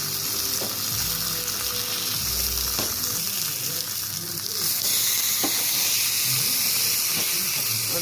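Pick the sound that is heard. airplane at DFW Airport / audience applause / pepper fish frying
pepper fish frying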